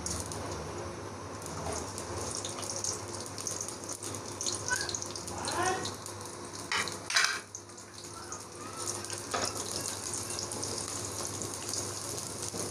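Sliced onions frying in ghee in a kadai, giving a soft, steady, rain-like hiss of sizzling throughout, with a few brief scraping stirs partway through.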